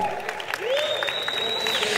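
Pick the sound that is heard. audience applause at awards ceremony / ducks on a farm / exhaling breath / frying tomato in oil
audience applause at awards ceremony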